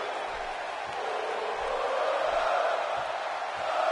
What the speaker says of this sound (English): The crowd.